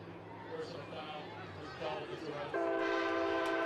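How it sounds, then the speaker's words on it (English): A train horn sounds near a high school football game, a steady tonal blast that swells in partway through over a noisy crowd and an announcer's voice, heard at a moderate distance. "Who called the old 7:30 good luck train?"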